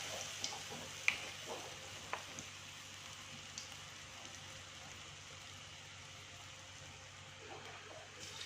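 Soft, steady sizzling of instant-noodle vegetable fritters frying in hot oil, with occasional light pops and clinks from a utensil, close and fairly quiet.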